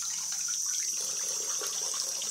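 Resin model kit parts rinsed under a running tap after scrubbing, with a steady, loud rush of water filling the whole stretch without pause.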